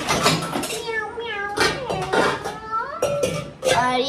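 A cat gives a rapid run of close, loud meows, one after another with brief gaps, and faint clinking of dishes may sound in the background.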